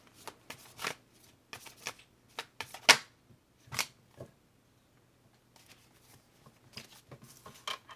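Tarot cards are shuffled by hand at close range, in irregular bursts of crisp riffling and slapping with short pauses between, quiet and alone.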